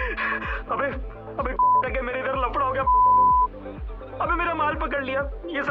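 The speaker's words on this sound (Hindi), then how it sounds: "ओ बॉबी का फोन आ रहा है।" A phone rings for an incoming call in the video game Mayanagti, with repeated electronic beeps and tones in a pulsing pattern beneath a mix of music and other sounds.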